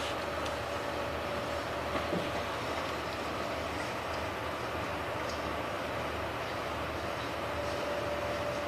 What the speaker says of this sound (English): But this is special rapid train.